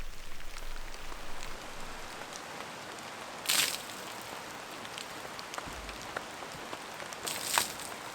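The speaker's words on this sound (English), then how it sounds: "So what do you think about camping in the rain?" Steady rain patters on a forest campsite by a river in autumn, a continuous soft hiss with a few louder close drips, no voices.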